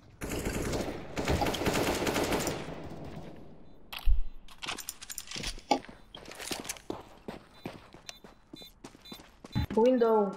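Gunfire in the video game CS:GO comes as a dense automatic burst, then scattered single shots and clicks, mixed with footsteps, while someone talks over the game.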